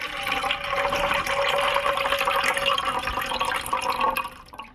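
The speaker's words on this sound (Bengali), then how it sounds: "ডালটা আমি 4 বার জল দিয়ে ভালো করে ধুয়ে নিয়েছি।" Dal lentils being washed in water in a home kitchen, a steady close wash of swishing, pouring and dripping water that runs continuously with no talk.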